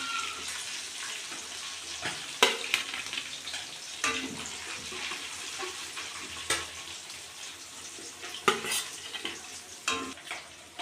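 Chicken chaap pieces frying in oil, one batch after another: a steady, moderate sizzle runs throughout, with occasional sharp clinks and scrapes of a utensil in the pan.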